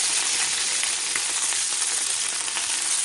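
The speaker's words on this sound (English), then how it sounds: "Sizzling all over the place." Chicken pieces browning in a hot pan for coq au vin give off a steady, dense sizzle and spatter that stays loud and close without a break, with no voices over it.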